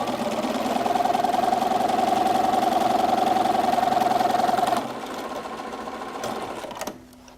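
A sewing machine stitches a patchwork quilt row in a fast, even whirring run for nearly five seconds, close by, then stops and leaves quieter handling sounds.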